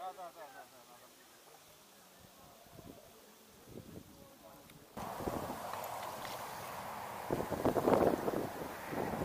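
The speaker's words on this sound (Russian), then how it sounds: "Немножко начал стихать ветер." Wind gusts against the microphone while fishing, quieter at first and then swelling into a louder, rougher rush in the second half, with faint voices underneath.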